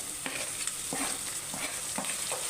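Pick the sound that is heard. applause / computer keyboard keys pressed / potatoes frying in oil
potatoes frying in oil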